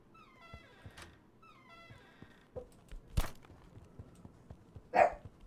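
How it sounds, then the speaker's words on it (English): A dog in The Final Station video game gives a few sharp barks spaced apart, mid-loud against quiet game ambience, with one louder bark near the end. "And we got the dog a-borkin."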